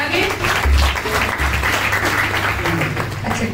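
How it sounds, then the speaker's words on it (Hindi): A church congregation claps together after a healing testimony, a steady burst of applause with voices faintly mixed in. "सो आओ असीं वड्डी गवाही दे लई और चंगियाई दे लई परमेश्वर दा खुदाई दास दा तालियां दे नाल धन्नवाद करांगे।"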